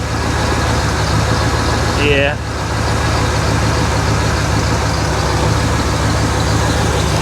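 A 1981 Lincoln Continental Mark VI engine idles roughly with a misfire, a steady close rumble throughout, briefly under a short spoken word and a faint whistle-like tone.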